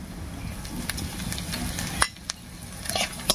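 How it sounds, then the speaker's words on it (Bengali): Grated ginger fries in hot oil with whole cumin, dried red chillies, bay leaves and cracked cardamom for a vegetarian ash gourd dish, giving a steady close sizzle broken by a few sharp clinks of stirring. "আদাটা একটু ভাজা হয়ে গেলে"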